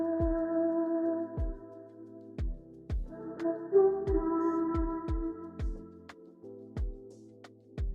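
Breathy flute sample set to an Amapiano beat, sustained tones and short melodic phrases over punchy low log-drum style kicks hitting in a steady groove, soft and in the background.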